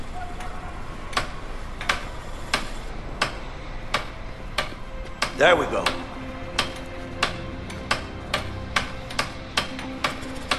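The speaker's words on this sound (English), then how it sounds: "It's hammering time." Hammer strikes in the video game A Way Out land as a steady series of sharp metallic taps, roughly one every half second, with a brief clatter midway and a voice speaking briefly.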